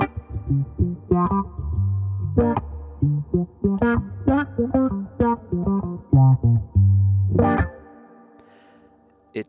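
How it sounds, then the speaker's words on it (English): Looped Taylor T5z electric-acoustic guitar through an auto wah effect, a rhythmic run of plucked notes and chords with sweeping, vowel-like tone shifts and distortion, loud and alone before fading out. "So if I add things like auto wah,"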